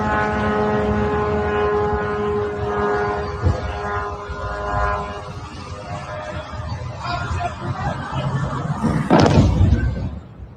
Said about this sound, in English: we actually have an interceptor drone hitting a suicide drone from Iran